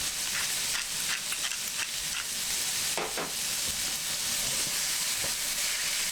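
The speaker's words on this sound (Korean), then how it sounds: "잘 볶아주세요" Paprika and minced garlic stir-frying in a hot pan, seasoned with paprika powder, salt and pepper, giving a steady close hiss of sizzling oil with scattered scraping strokes of the spatula throughout.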